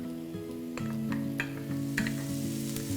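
Ginger paste sizzles in a pan with seared beef for nihari, a steady close frying hiss under faint humming tones, with a few light stirring scrapes and clicks.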